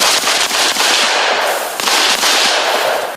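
Sniper rifles fire during shooting practice by a mobile border guard unit: loud, sharp cracks in rapid overlapping succession, close and dense, with rolling echoes and no talk.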